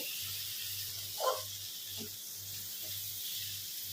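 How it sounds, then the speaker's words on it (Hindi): Chopped tomato and spices frying in oil in a pan for a jackfruit curry, giving a steady soft sizzle with a faint rhythmic pulse underneath. "टमाटर को गलने तक मसाले को फिर से भूनेंगे।"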